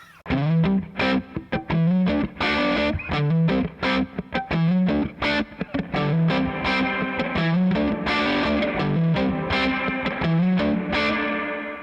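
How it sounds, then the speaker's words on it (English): A distorted electric guitar on the neck pickup, volume all the way up, plays choppy chords and notes drenched in heavy reverb, each hit trailing off into a wash of lingering sound. "That's way too much reverb."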